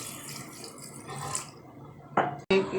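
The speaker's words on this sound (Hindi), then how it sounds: "अब इसमें ना हम आधा कप पानी डालेंगे।" Half a cup of water is poured into yogurt to thin it for dahi baray, a close, splashing trickle that fades, then gives way to a few short sharp kitchen sounds.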